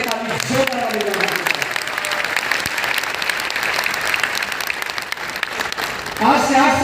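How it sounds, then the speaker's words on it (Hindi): Loud, sustained clapping from an audience at a business achievers' celebration in Bhilwara, with cheering and voices mixed in, swelling again near the end. "हाथों पर करके ताली जोरदार बजाएं"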